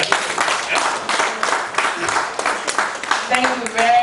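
Audience applause at a sports journalists' convention, a broad wash of clapping from the crowd lasting several seconds, with voices speaking over it and a faint tone near the end.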